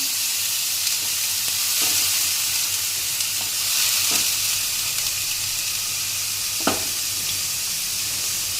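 Onion paste added to hot oil fries with a loud, constant sizzle and hiss, broken by a few scrapes of a spatula stirring the pan, with no talking.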